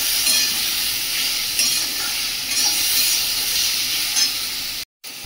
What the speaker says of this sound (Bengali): দিয়ে দেবো পরিমাণ মতো লবণ, পরিমাণ মতো জিরে গুঁড়ো, ধনিয়া গুঁড়ো দিয়ে ভালো করে কষিয়ে নেব।